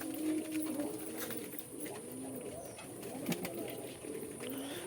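Several fancy pigeons coo in a farm loft, low murmuring calls overlapping one another at close range with faint rustling and a brief clack partway through.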